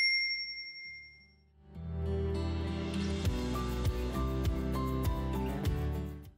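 A single bright notification bell ding rings out at the start and fades quickly before music takes over.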